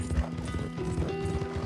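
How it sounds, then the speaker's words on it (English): Horses gallop in the Red Dead Online video game, a quick burst of rhythmic thudding hoofbeats close by, with a faint whinny over a low game background. "The Marol brothers rode side by side, their horses thundering across the plains with relentless speed."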